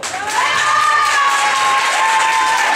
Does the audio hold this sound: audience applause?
yes